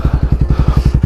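A motorcycle fitted with a new exhaust idles loudly up close, its engine thumping in a fast, even pulse of deep beats with no voices.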